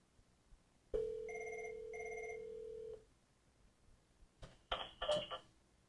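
A telephone rings for an incoming call on a Cisco voice system: two even rings in steady succession, loud and close, followed by brief clicks and handset noise as the call is answered.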